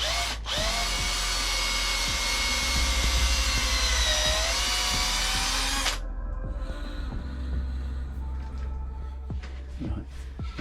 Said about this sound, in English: I'm just going to basically fasten these battens now onto the side just to make a lipped edge